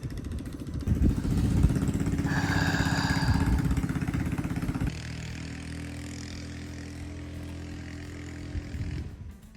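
A low, droning motorboat engine runs steadily as the boat passes back and forth, louder in the first half, then settles into a quieter, even hum as it moves away.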